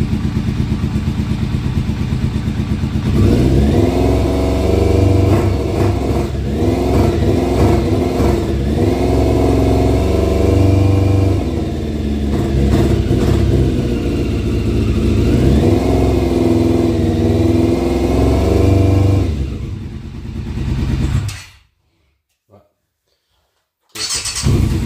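A cold Yamaha Fazer motorcycle engine runs and revs for about twenty seconds, loud and close, with its pitch rising and falling through several blips before it cuts out near the end.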